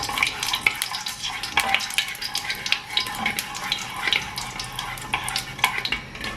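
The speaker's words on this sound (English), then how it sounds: "So you let the mustard seed pop out." Mustard seeds in hot oil for lemon rice crackle and pop in dense, irregular bursts with a steady sizzle underneath, close and fairly loud.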